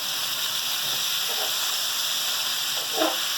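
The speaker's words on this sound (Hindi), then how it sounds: "अपने केरियों को हम थोड़ा सा घी में फ्राई करेंगे" Raw mango pieces frying in ghee give a steady, even sizzle and hiss throughout, close and continuous, with a couple of faint utensil clinks.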